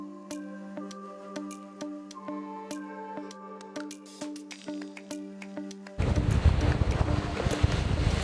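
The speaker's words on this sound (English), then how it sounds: "I don't know if you're going to be able to hear me because of the wind" Strong wind sweeps across a Thai beach and hits the microphone as a sudden loud, rough rush that takes over after a stretch of clear, ringing tones.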